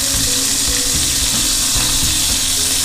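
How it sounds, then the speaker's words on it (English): Pork pieces sear in a hot pan over medium-high to high heat, giving a loud, continuous close-up sizzle with crackling spatter throughout. "We're going to keep this medium-high to high heat to get a nice sear on those."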